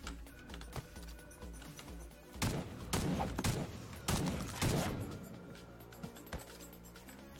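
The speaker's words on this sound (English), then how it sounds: "That is a shotgun." Shotgun blasts in the video game Madness Project Nexus, a few sharp bursts clustered in the middle, each loud and broadband with a quick decay, set against quieter clicking.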